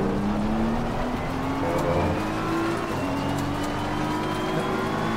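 Race car engines roaring steadily on the Nordschleife in Assetto Corsa Competizione, a BMW of Team WRT among a 50-car field, with rising engine pitch as gears climb and a constant loud drone without talk.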